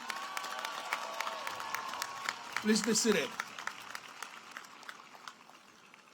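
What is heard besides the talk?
commencement audience applause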